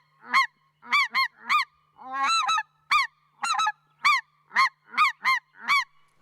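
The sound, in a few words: goose call imitating a snow goose and specklebelly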